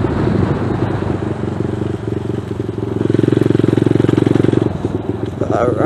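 A ZS190 Grom clone motorcycle engine drones steadily while riding, its pitch and pulse changing through a gear shift, with a close rumbling exhaust throughout.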